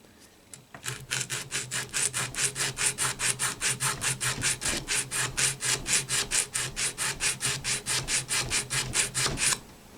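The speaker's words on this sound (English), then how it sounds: "I put a little 80 grit sandpaper on a piece of Lexan" Wood is rubbed back and forth across 80-grit sandpaper laid on a sheet of Lexan, close and steady, during a guitar neck reset. About forty rhythmic rasping strokes follow one another at an even pace, with no talk.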